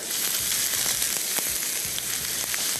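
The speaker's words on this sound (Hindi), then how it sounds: "ऑयल गर्म है, सबसे पहले इसमें शामिल करेंगे लहसुन, फिर इसमें शामिल करेंगे अदरक, और इसको थोड़ा सा करेंगे फ्राई।" Garlic and ginger frying in hot oil for Bihari mutton qeema, a dense, loud, continuous crackling sizzle with faint scraping stirs underneath, no voice.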